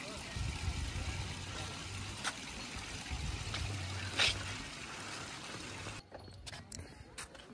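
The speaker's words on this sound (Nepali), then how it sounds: "अहिले चाहिँ यहाँनिर पनि बुद्ध पार्कमा पनि यसरी पानी झर्ने बनाएको रहेछ" Water pouring from a fountain in Buddha Park at Muktinath, a steady trickling splash that runs under people talking and then cuts out near the end.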